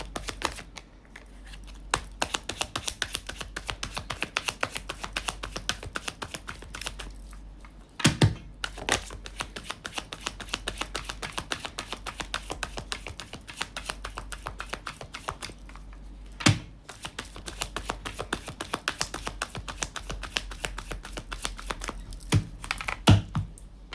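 Tarot cards drawn and shuffled from a deck, giving a dense run of quick crisp card flicks and taps at close range, with two short pauses and no voices.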